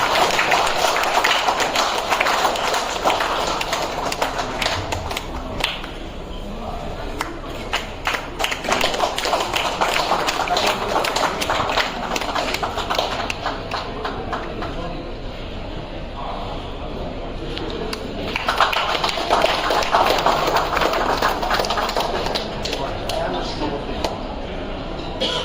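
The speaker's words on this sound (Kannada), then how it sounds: "ಒಂದು ಜೋರಾದ ಚಪ್ಪಾಳೆ ಮೂಲಕ ಈ ಒಂದು ಕಾರ್ಯಕ್ರಮವನ್ನು ಆರಂಭಿಸುತ್ತೇವೆ." Loud crowd applause opening the premiere show of the Kannada film Damayana: steady, dense clapping carries on throughout, swelling near the end, with people talking over it.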